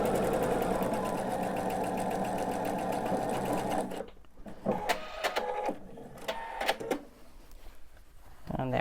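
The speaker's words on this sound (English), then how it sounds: "I am going to backstitch here just because I'm not chain piecing and I don't want these threads to come out" A sewing machine stitches a quilted piece at speed, a loud continuous whirring hum for about four seconds, then stops, followed by scattered close clicks and handling noises.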